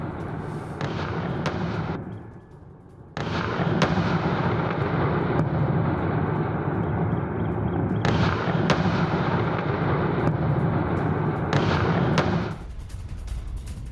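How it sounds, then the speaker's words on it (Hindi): Heavy, rumbling blasts from missile strikes on Kyiv roar continuously with sudden loud surges and sharp cracks, then drop away briefly before the din resumes. "कई इलाकों में सुनाई दिए हैं तेज धमाके"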